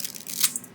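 Dry pasta snaps into small pieces by hand while vegetable soup is made, a brief cluster of sharp, close crunching cracks with a louder break near the end.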